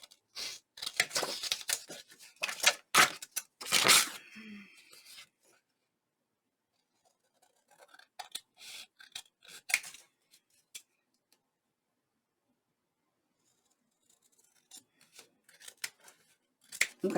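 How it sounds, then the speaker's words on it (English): Scissors trimming a fabric pocket piece, a burst of close crisp snips in the first few seconds, then quieter scattered snips and handling rustles with long silent gaps. "we've trimmed the pocket out, thrown away the scraps"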